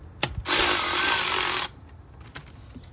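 A power tool whirs steadily for about a second while tightening a part on the engine of a 2006 BMW 325i, close and loud, with short clicks and rattles just before and after the run.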